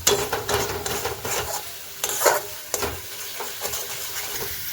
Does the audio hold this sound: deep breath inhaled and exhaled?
no